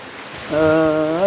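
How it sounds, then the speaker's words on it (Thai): Steady rain falls during a storm, a dense hiss that swells louder halfway through and holds, with a tonal hum running beneath it. "ฝนตกแน่นี่เนาะ"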